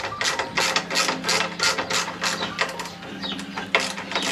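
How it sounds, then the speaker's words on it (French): A screw being undone on a Triumph Tiger 900 motorcycle during an exhaust change, with a nut behind it, heard up close as a rapid series of sharp ratcheting clicks in steady repeated strokes. "Je suis en train d'essayer de dévisser une vis là, où derrière t'as un petit écrou à la con."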